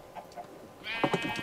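Sheep bleating in Minecraft, a few short wavering bleats coming in loud and close after a quiet start, with no talking.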